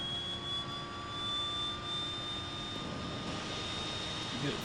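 Right engine of a DHC-6-300 Twin Otter running in the FSX flight simulator, a steady turbine whine with a rising tone and broad roar held evenly throughout, without speech.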